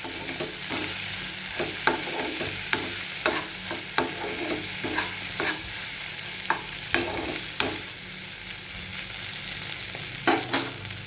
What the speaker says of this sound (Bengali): আমি এই চিনিটাকে একটু মিশিয়ে দেবো।